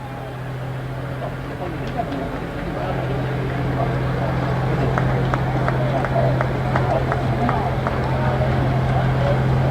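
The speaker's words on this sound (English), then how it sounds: "Swanson's Antique Tractors." Antique tractors rolling along in a town's 200th anniversary parade, a steady low engine drone with faint clicking, growing slightly louder, while people talk over it.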